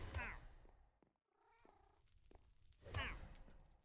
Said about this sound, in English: need to be careful not to hit my cat.